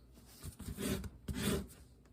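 Sanding a guitar pick cut from recycled 3D printer spool plastic: two close, rasping strokes of about half a second each, separated by a short pause, with no talking.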